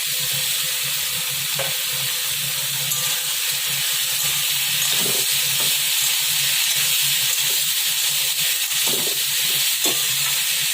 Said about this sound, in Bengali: এবার আমি পেঁপে আলুটা, এবার আমি মুগের ডালটা দিয়ে দেবো।